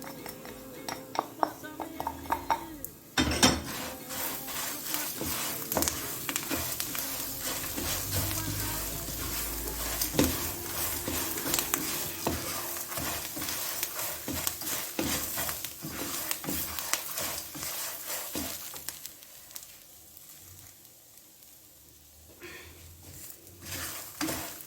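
Curry leaves tossed into toor dal, peanuts and sesame seeds roasting in a pan for curry leaf idli podi, giving steady sizzling with frequent spoon scrapes and clinks against the metal pan, close and continuous.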